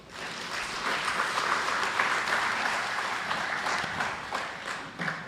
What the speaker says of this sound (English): Let's give once more a big round of applause for Father Edward